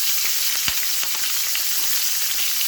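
A steak sizzles loudly in a hot pan with garlic, fresh bay leaves and butter, a constant crackling hiss broken by a few sharp spits and pops close by.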